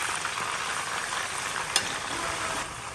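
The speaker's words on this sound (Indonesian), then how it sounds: "aku goreng daging ayam sampai warnanya kecoklat-coklatan" Chicken meat frying in hot oil, a steady dense sizzle that holds evenly throughout with one brief sharp pop near the middle, close and alone with no talk.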